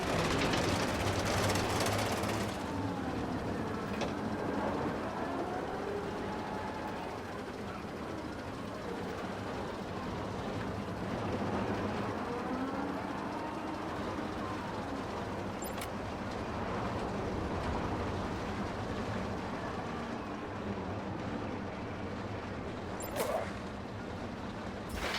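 Small family roller coaster train in Planet Coaster 2, rattling and rumbling steadily up a lift hill with a continuous clattering mechanical drone and occasional sharp clicks. No voices.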